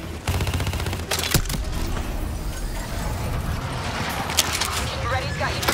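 Dense, continuous gunfire from a Call of Duty: Black Ops 3 firefight, bursts of automatic weapons and scattered sharper shots layered over a loud battlefield din, with faint voices mixed in.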